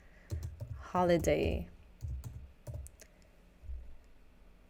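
Keystrokes on a computer keyboard typing a short word into a text frame, a handful of sharp clicks in quick clusters with a brief spoken word early on.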